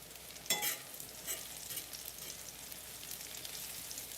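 Mushrooms and onions frying in a pan, a steady soft sizzle with a few louder stirring scrapes near the start, fairly quiet and close, with no talking.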